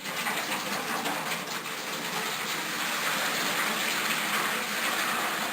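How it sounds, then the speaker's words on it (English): Cloudy beer wort runoff from a homebrew mash pours steadily into a cooking tin punched with about fifty nail-sized holes, a continuous close splashing gush of liquid with no speech over it. "pour it in here to my cooking tin"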